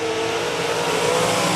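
USRA Ironman stock cars are racing at Park Jefferson Speedway as a heat race goes green, making a dense, steady roar of several engines at full throttle that fills the clip without pause.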